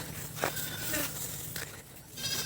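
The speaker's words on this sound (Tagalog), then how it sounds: "Magpastol muna tayo guys sa mga alaga nating kambing." Goats bleat a few times at a distance, faint against an outdoor background with buzzing insects.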